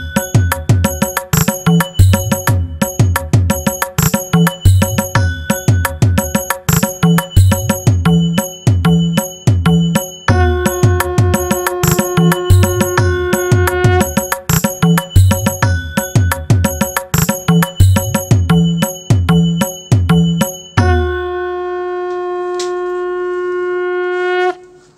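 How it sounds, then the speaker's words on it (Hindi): An octapad bell patch plays a steady repeating devotional aarti pattern, bright ringing bell strikes layered over rhythmic drum hits, loud and continuous, ending on a sustained bell tone that rings out alone. "ये जो घंटी बजेगी आपकी, वो सब में ही बजेगी"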